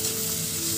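Tomatoes and paneer fry in hot oil, giving a steady, close, dense sizzle that holds at an even level throughout, with no voices over it.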